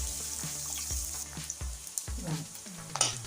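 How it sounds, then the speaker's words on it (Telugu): Onions frying in oil in a pan for a spinach fry, a steady soft sizzle broken by periodic scraping knocks of a stirring utensil, close with no speech. "ఒక 2 మినిట్స్ ఆయిల్లో ఫ్రై చేసుకోవాలి ఆనియన్స్ని"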